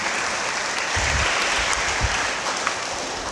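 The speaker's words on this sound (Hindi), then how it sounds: "लोग उन्हें ताली मारेंगे" Audience at a Catholic novena service breaking into applause, a dense, steady wash of many hands clapping that holds at an even level throughout, fairly close and without speech.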